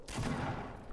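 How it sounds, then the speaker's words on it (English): A sustained burst of rapid gunfire from the video game Fortnite, loud and close, running continuously through the short moment with no talk over it. "Who is shooting?"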